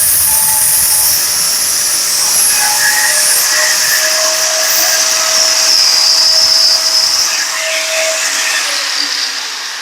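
Power saw with its blade running through a 45-degree cut, a loud continuous whining motor drone with steady high tones, close and unbroken throughout.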